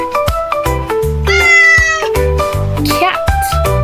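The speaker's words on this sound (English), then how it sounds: "C is for cat." A cat meows loudly several times over a bouncy children's musical backing with steady bass notes, including one long drawn-out meow midway.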